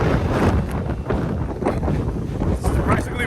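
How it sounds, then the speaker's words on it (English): Strong wind buffets the microphone beside a waterway leading toward the Atlantic near Brunswick, Georgia, a loud rough rumble with gusty swells throughout. "it's really windy"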